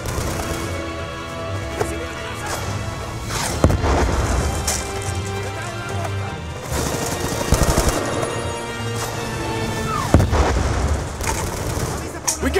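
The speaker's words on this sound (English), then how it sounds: "Get up high! Provide cover fire!" Sustained battlefield gunfire in Black Ops II during the Angolan Civil War, with rattling automatic bursts and heavy booms layered over one another and shouting voices breaking through at times.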